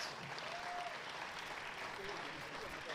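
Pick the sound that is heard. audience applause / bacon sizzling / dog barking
audience applause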